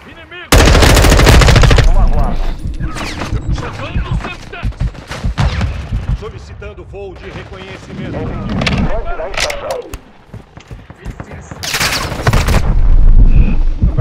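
Loud bursts of rapid gunfire from Call of Duty: Modern Warfare II in team deathmatch, with automatic volleys, sniper shots and heavy booms, interspersed with talking voices between the shots.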